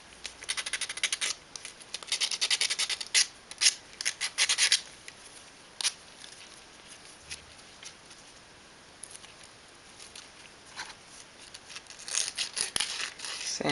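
Sandpaper rubs tabs off the plastic body of a toy gear-box pet fish, making quick close scratchy strokes in bursts with short pauses, faint and papery throughout.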